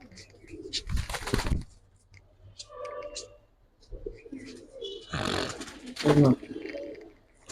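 Giribaz high-flyer pigeons coo softly in short, throaty bursts close by, mixed with bursts of handling noise and people talking among the birds.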